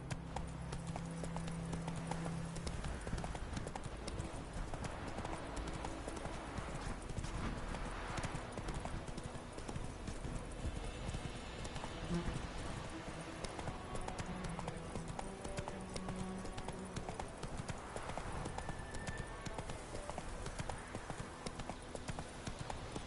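A horse's hooves clip-clop steadily at a galloping pace throughout a video game, mixed with dense game music and ambient sound in a continuous, busy soundscape.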